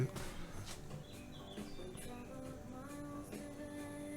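Birds chirping, with scattered bright tweets and short calls over a steady background hum, fairly faint and at a moderate distance, with no clear talk.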